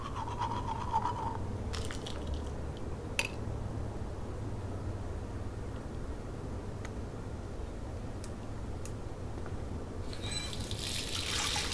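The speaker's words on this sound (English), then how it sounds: "It feels so good to wash my face after all that chlorine" Running water from a tap as a character washes her face in Life is Strange, a steady low trickle and splash continuing throughout with a few small clicks, no talk.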